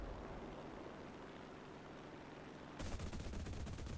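A steady engine drone from a Su-6 ground-attack plane in War Thunder gives way to a loud, rapid burst of 23mm cannon fire that continues to the end.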